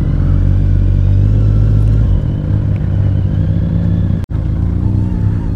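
A superbike engine runs continuously on a rough mountain road in Ladakh, a loud steady drone that briefly cuts out for a moment near the end, with no talking.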